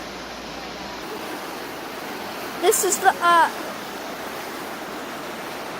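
Steady broadband rush of a fast-flowing flooded mountain creek fills the scene, with a man's brief speech in the middle.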